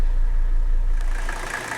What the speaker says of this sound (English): I've let the engine run about 15 minutes